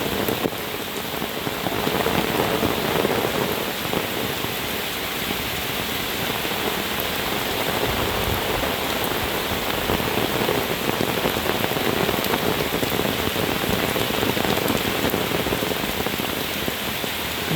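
Heavy rain with strong wind across the countryside on a late afternoon, a dense, constant roar of downpour drumming on surfaces that stays loud and unbroken throughout.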